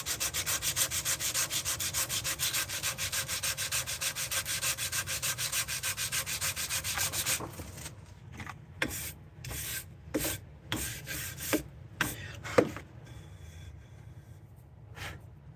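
Steady, continuous sanding of wood for several seconds, then broken into short rubbing strokes with pauses between them.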